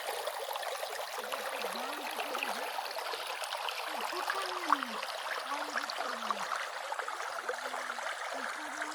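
Cold water from a mountain waterfall runs in a small stream as a steady, soft wash that goes on throughout. A low, faint warbling call rises and falls beneath it.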